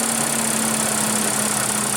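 A 2015 Audi Q7 with a 3.0 L supercharged V6 idles steadily, giving a constant close, even engine hum with a low droning tone and no voices.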